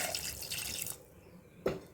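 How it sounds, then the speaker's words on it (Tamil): Water pours steadily into a pot for about a second, then stops, followed by a single short splash. "இப்போ தண்ணி சேர்த்தாச்சு"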